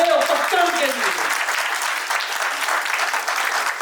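An auditorium audience at the Kaveri 2025 event claps in a dense, sustained burst of applause, loud and close, with a voice trailing off at the start.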